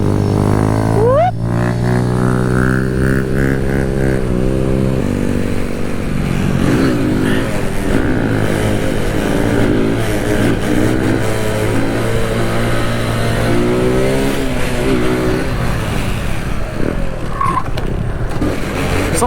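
A 125cc motorcycle engine revs hard and close, its pitch climbing, dropping and wavering through repeated throttle blips as the bike bogs down and picks up again, loud and continuous from start to finish.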